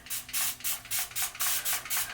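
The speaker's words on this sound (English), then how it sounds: "You see how it just lightly starts to spray my hand" A fine mister bottle sprays water onto a hand in quick, close bursts: about eight soft hissing puffs in a steady rhythm.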